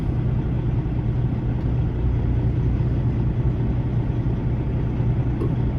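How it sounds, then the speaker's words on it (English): A smoking diesel truck engine runs steadily close by for the whole stretch, a loud low rumble with a dense ticking texture, and another truck idles right next to it. "He's smoking like hell. Look at that. That thing is ticking like a son of a gun. You can hear it over my truck."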